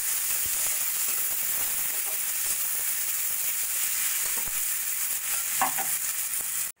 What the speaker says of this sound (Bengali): পেঁয়াজটা 2-3 মিনিট মতো ভাজা ভাজা করে নেব